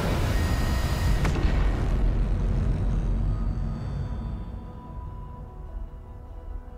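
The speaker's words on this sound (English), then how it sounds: "it was an absolutely enormous explosion" An enormous explosion in the video game Factorio: Space Exploration: a loud broadband blast with a sharp crack early on, followed by a long rumbling roar that slowly decays over several seconds.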